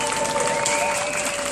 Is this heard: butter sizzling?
no